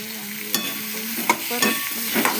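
Eggplant and potato curry is stirred in a pan, with a steady soft sizzle broken by several sharp scrapes and clinks of the spoon, close up with no voices.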